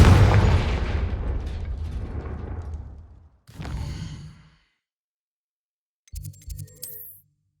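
A Confringo fire spell explodes in Hogwarts Legacy with a loud booming blast that rumbles and decays over a few seconds, then a shorter second burst and faint magical crackles follow.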